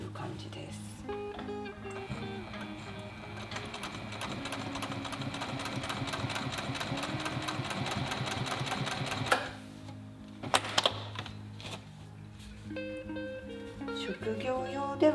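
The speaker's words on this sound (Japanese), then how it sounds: "職業用ではまあ縫えますが、ちょっと速度も 早めにすると 厳しいかなという感じ" A professional-grade sewing machine stitches through thick layered denim and canvas, a steady rapid needle chatter for about nine seconds that stops, followed by a few clicks and a brief restart, with background music throughout.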